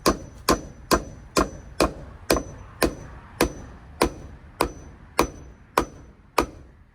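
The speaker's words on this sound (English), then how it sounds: "Gonna hammer it right in." A hammer drives something in while a cat enclosure is being built, landing about fifteen sharp, ringing blows at a steady, even rhythm, loud and close with no talking.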